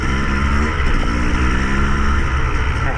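A KTM 250 EXC two-stroke dirt bike engine runs loud and close, a dense buzzing drone holding steady throughout with slight shifts in pitch and no talking.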